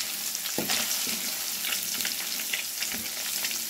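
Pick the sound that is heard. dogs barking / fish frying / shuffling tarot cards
fish frying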